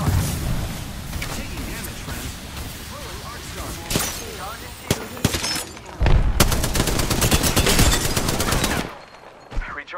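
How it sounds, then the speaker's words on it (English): Rapid automatic gunfire in an Apex Legends firefight comes in close bursts and single cracks, growing denser and louder toward the end before cutting off, with voices mixed in. "Shots fired, and they're hitting me."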